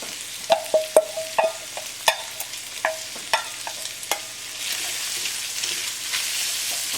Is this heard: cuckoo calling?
no